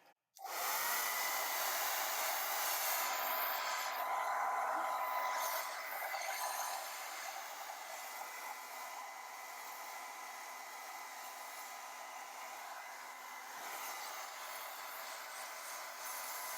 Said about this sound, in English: I might see what I can do with the hairdryer again.